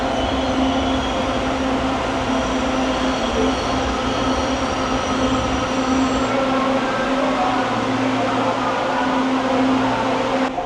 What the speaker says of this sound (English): but I'm really curious to see how this LRT works